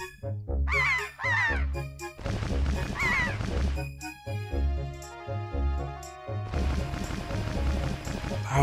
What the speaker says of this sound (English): Their spiky wings are fucking really loud.